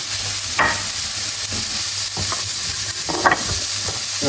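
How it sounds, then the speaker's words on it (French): Rice being sautéed in a pan with onions for risotto alla carbonara, a close, steady sizzle broken by several sharp scraping stirs of a utensil through the grains. "je vais faire revenir mon riz"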